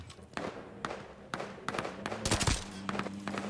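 Video game gunfire in a Warzone match: sharp shots and bursts crack out in irregular bursts, some loud and close with rumbling low thumps, others fainter, alone without talk.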